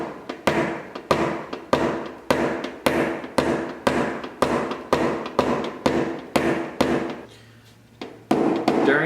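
A nylon-tipped knockdown tapped against a dent on a Honda CR-V dent trainer panel gives a steady run of sharp, evenly spaced knocks, about two per second, close and loud. A brief pause comes near the end before the tapping resumes.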